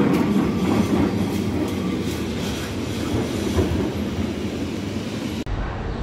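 A train rumbles at a station platform in Portugal, a steady broad roar with faint rail clatter running throughout, dropping away abruptly near the end.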